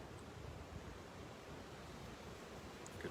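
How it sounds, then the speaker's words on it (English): Wind blows outdoors on a Florida morning among trees, a faint, steady rushing hiss that carries on evenly with no voices over it. "Windy, see the trees? It's a bit windy."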